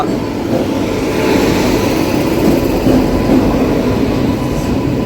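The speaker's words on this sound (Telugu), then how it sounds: "రెండో నెంబర్ ప్లాట్ఫామ్ మీదకి ఏదో ట్రైన్ వస్తుంది వ్యాప్ సెవెన్ లోకోమోటివ్ తోటి" A train hauled by a WAP-7 electric locomotive rolls into platform two at an Indian station, a loud, close, continuous low rumble of wheels and wagons that swells slightly midway.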